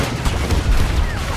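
Dense gunfire from a Battlefield 2042 battle, a continuous rattle of shots with low booms running through the whole short stretch, loud and close.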